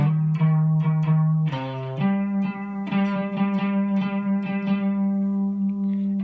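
A song played on electric guitar, a spacey, echoey part with sustained ringing notes and a held low tone that shifts partway through, heard alone and fairly loud.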